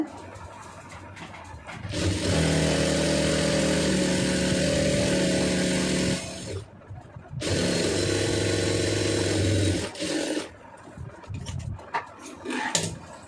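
An electric sewing machine stitches a blouse neck piece in two long, loud, steady runs separated by short pauses, with no talking over it.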